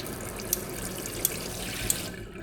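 Water runs steadily from a modern kitchen sink tap in a house, a close, even rushing stream with a few faint clicks, no voices.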